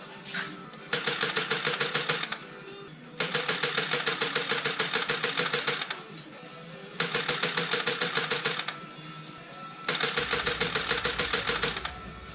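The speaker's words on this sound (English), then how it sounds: "No fuel, just crank it." A car engine with a low battery cranks without fuel in four long bursts of rapid, even chugging, each lasting a couple of seconds with short pauses between, loud and close.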